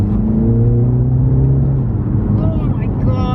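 A Mini GP3 car drives with a steady loud engine drone from inside the cabin, and engine pitch rises briefly near the end as it accelerates; a voice speaks over it.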